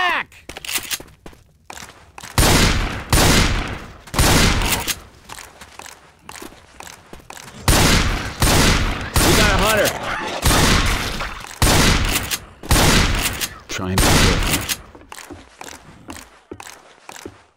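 Bursts of gunfire from Left 4 Dead 2 during a 1v1 tournament match ring out loud and close in repeated rapid volleys with short gaps, about a dozen clusters in all, alongside other game noise.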